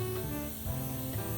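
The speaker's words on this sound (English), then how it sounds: "Just spray it through." A steady airbrush hiss runs throughout, continuous and close, with a low hum of the compressor underneath and no voices, spraying Mission Models chrome paint.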